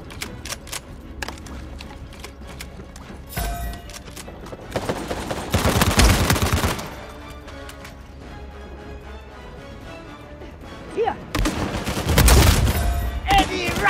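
Bursts of automatic gunfire and single shots in a firefight in the video game Uncharted 4, loud and repeated across the span with heavy volleys and brief lulls, game effects and voices mixed in.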